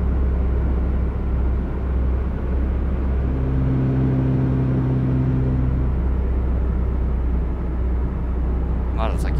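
In the City Car Driving video game, a car creeps slowly along in city traffic, giving a steady low engine drone and rumble that holds at an even level for the whole stretch, with a faint tonal whine in the middle.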